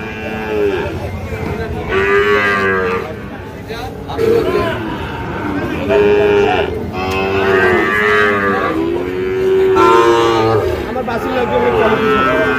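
Cattle and calves at a Chattogram cattle market moo repeatedly, loud and close. Long, overlapping bellows rise over a steady background of crowd chatter.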